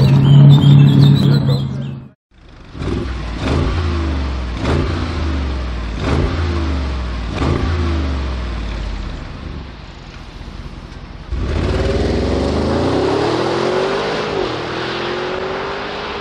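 Aston Martin DBS Superleggera V12 engine revs in a series of rising blips, each climbing and dropping back, then one long swelling rev near the end, loud and close with no talk.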